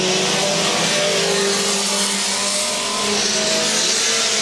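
Modified race cars roar past on a racing track, with dense, loud, sustained engine noise that fills the whole stretch without pause.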